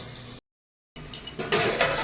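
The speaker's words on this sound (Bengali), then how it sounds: "আমি ঢাকনাটা নিয়ে দিলাম" A lid being set on a cooking pot of mushroom and potato curry, giving metallic clinks and a scraping clatter of cookware, close and clear after a brief silence.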